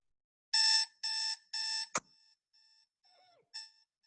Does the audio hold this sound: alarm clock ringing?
yes